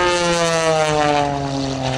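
A propeller-driven aerobatic airplane roars overhead during an airshow, its loud droning engine tone holding steady with a slowly sliding pitch as it performs tumbling maneuvers, with no voices heard.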